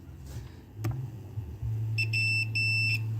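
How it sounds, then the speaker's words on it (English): A steady electronic hum, then a multimeter's bright continuity beep sounds in two short bursts near the end, while testing a 1939 Ford 9N tractor. "So it should beep if we've got continuity across the points."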